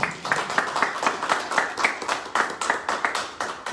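An audience at a local college event claps for Congressman Henry Cuellar, a dense, even round of applause with a steady pulsing rhythm lasting several seconds, no talking on top.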